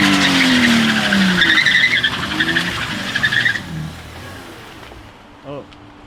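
A car pulls up with a brief tire skid and engine noise, fairly close, fading toward the end, with voices talking over it.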